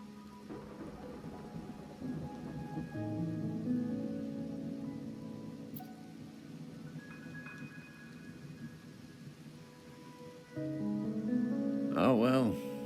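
Steady rain falling in a rainy night scene of the video game Wuthering Waves, a continuous soft hiss under low rumbling music-like tones, with a brief brighter burst near the end.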